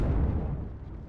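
An explosion in the strategy game Wargame: Red Dragon, a dense, deep rumbling blast that is loud from the start and slowly decays over about a second, with no speech.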